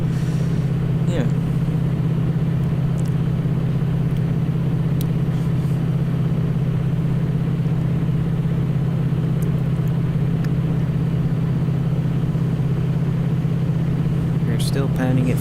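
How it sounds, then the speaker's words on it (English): A locomotive engine works at full throttle inside a tunnel on Canadian Pacific's Mountain Subdivision at Rogers Pass in a train simulator, a steady loud droning rumble that holds unchanged throughout, with faint clicks and rattles on top. "Still panning at full throttle through this tunnel on Canadian Pacific's Mountain Subdivision and Rogers Pass."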